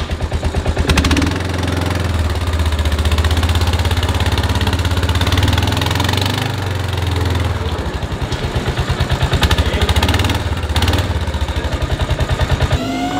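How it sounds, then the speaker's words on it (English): A four-wheeler ATV engine revs and idles with a steady low mid-pitched drone as it climbs up onto a dump insert in a work truck bed, loud and close, with throttle changes partway through and no talk. "So, Josh is gonna run his four-wheeler up here."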